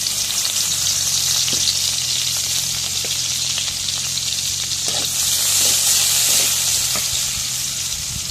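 Steady, loud sizzling of paste frying in hot oil, with occasional stirring scrapes and pops throughout.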